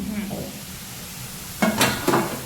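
Garlic sev frying in oil on low heat, a steady soft sizzle with a couple of scraping stirs of the pan near the end; someone talks briefly over it.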